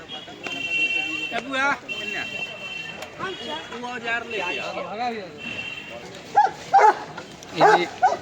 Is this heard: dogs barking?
yes